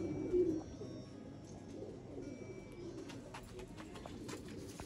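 Kasuri Rampuri mix pigeons, heavy male birds, coo softly and repeatedly at close range, low throaty calls rising and falling with faint chirps in the background.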